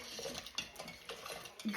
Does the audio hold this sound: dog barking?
no